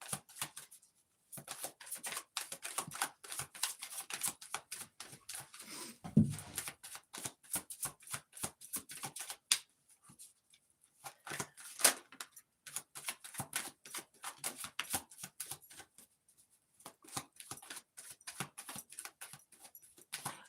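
Tarot cards being shuffled by hand, a long run of crisp, rapid riffling and flicking bursts with brief pauses between handfuls, close and fairly quiet, with no talking.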